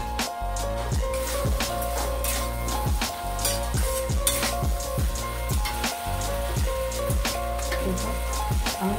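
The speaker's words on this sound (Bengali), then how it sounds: "এবার আমি আলু পটলটা ঢেলে দিচ্ছি।" Potatoes and pointed gourd hit hot spiced oil in a pan, giving a steady, crackling sizzle that continues evenly throughout with a rain-like patter, under a constant tonal background.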